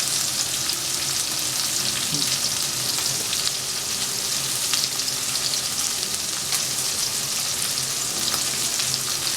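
A pot of salted pasta water heats toward a boil, giving a steady, close, dense bubbling hiss that stays even throughout without pauses.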